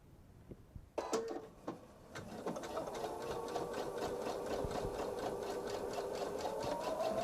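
A sewing machine starts up after a few quiet clicks and stitches fabric at a steady, fast, even rhythm, the close mechanical whir and needle patter running continuously to the end at a 2.5 stitch length.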